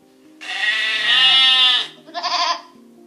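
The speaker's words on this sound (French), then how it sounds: "Chapeau l'agneau s'arrête et regarde nos amis. Il bêle en signe de refus." A lamb on a farm bleats twice in close succession: one long, wavering cry followed by a shorter, higher one, loud and near, with a faint steady hum underneath and no speech.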